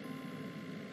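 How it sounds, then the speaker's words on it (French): An animated truck reverses with a steady backup beeper tone over a low idling engine rumble, heard briefly and faintly, with no voices. "Mais d'où vient ce camion?"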